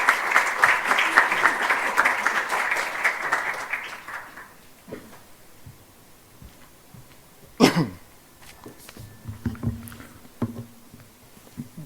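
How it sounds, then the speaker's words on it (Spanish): Audience at a welcome ceremony in Concepción applauding briefly, with the clapping fading out after about four seconds, followed by a quiet room broken by a cough, shuffling and scattered low noises. "Un aplauso, por favor."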